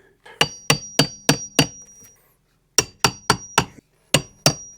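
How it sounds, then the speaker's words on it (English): A hatchet strikes wooden shims during trim work at an off-grid cabin in the woods, two quick runs of sharp, evenly spaced knocks with a metallic ring, separated by a short pause, close and clear. "we're going to do some cabin chisel work with a hatchet"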